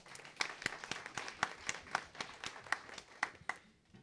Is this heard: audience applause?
yes